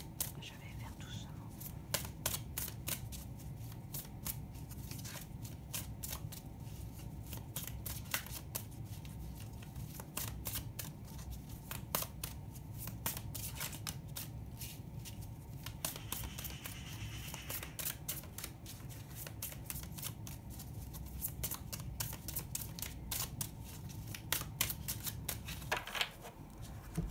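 Oracle cards are shuffled by hand in quick, repeated crisp riffles and flicks, close and fairly quiet, under soft, low speech.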